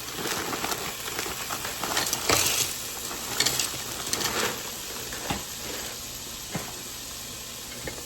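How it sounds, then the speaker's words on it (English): Chopped onions sizzle in melted unsalted butter in a pot, a steady soft crackling hiss with scattered pops, low and close with no talking. "to our butter, we're going to add in about a half a bag of our onions"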